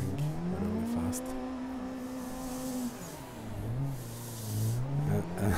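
A race car in a racing video game drives fast with a continuous, close engine whine that holds a high pitch, dips, then climbs again under acceleration, with no voices.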